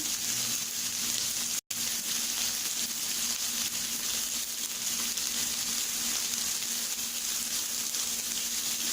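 Onion, garlic and curry leaves fry in a pan with a steady, loud, close sizzle that continues throughout, broken only by a brief instant of silence.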